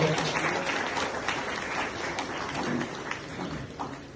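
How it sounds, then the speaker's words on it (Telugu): A crowd claps continuously at a retirement function as a garland exchange takes place, the applause dense and sustained, easing slightly toward the end. "అందరూ క్లాస్ కొట్టి ప్రోగ్రామ్ ఎంకరేజ్ చేయాలి"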